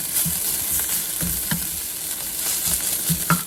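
Browned smoked sausage bits are scraped from the bottom of a hot pan, with a steady close sizzle of frying and short scrapes and taps of the utensil repeating unevenly.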